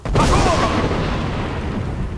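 The Clear Skies shout booms in Skyrim VR, a sudden loud, rumbling blast that swells at once, then decays slowly into a long, washing roar.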